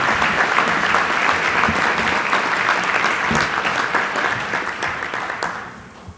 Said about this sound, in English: Let's give another big round of applause to an incredible group of award winners